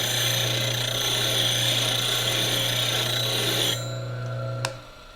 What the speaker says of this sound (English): Lay your tool flute down on it. Bring it up. And grind the top of it.